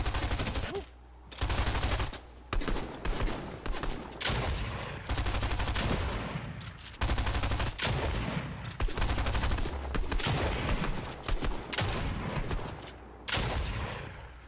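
Rapid bursts of Fortnite gunfire crackle almost continuously, loud and dense, with short pauses between volleys.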